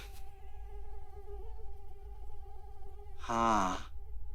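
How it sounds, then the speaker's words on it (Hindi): A mosquito whines close by with a thin, steady buzz that wavers slightly in pitch, continuing for several seconds over low room noise, followed by a brief sigh-like voice sound near the end. "मच्छर।"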